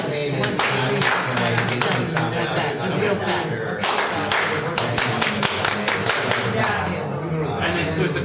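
Hand claps in a call-and-response exercise at a community arts engagement session, one group clapping a pattern and others echoing it, with sharp repeated claps over steady chatter and voices talking.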